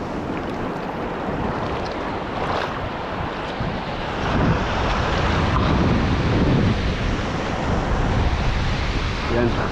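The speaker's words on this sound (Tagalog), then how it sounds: "Grabe yung alon talaga. Malalaki." Big ocean waves surge and crash at the shore in a loud, continuous wash, swelling stronger partway through, with wind buffeting the microphone.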